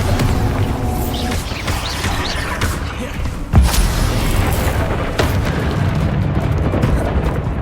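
A Bombarda spell blast in Hogwarts Legacy lands as a single heavy boom midway through, standing out over a dense, continuous rumble of combat effects.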